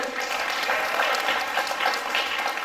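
A crowd applauds steadily, a dense wash of many hands clapping at even loudness throughout.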